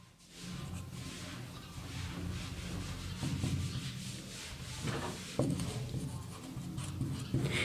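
A pen writes notes by hand on paper in close, steady scratching strokes, with short pauses and occasional taps between lines.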